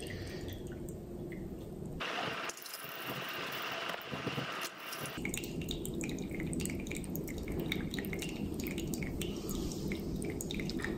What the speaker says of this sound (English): You can see all of the fluid dripping into your cup.